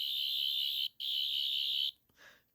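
Doctor Who sonic screwdriver replica emitting a loud, steady high-pitched electronic whine, briefly interrupted once and then stopping, followed by a short softer warble.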